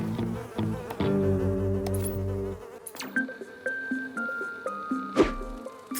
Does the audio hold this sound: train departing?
no